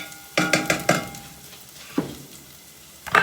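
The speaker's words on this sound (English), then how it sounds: "Now our onion are browning." Onions browning in a frying pan, giving a few soft crackling pops and bursts of sizzle over a low, steady frying hiss, close and fairly quiet.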